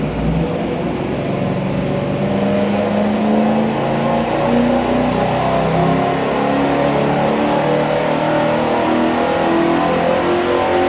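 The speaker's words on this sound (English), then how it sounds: "Here we go with our first test with that Y-shaped merge and the single 3-inch exhaust" A dyno-mounted engine pulls through a Y-shaped merge into a single 3-inch exhaust with a turbo muffler, a loud, continuous, close roar that climbs gradually in pitch over several seconds, with no talking.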